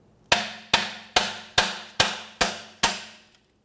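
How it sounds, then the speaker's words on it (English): Seven sharp metallic hammer blows strike at an even rhythm, each ringing briefly, driving wheel studs out of a rear backing plate on a 2003-2021 Chevrolet Express 3500 van. "I'm just gonna use my hammer and hopefully drive these studs out"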